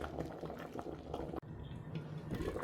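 Snail pepper soup bubbling in a pot, a close steady boil with gurgles and small pops, briefly interrupted by a sharp cut midway.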